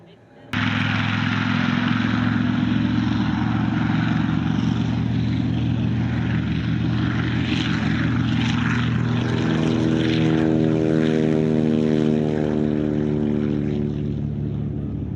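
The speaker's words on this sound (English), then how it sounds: "that lead plane with the smoke on." A four-plane formation of propeller aircraft at the Brisbane Airshow, the lead plane trailing smoke, passes close overhead with a loud, steady engine drone that holds for about fifteen seconds and slowly shifts in pitch as the planes go by.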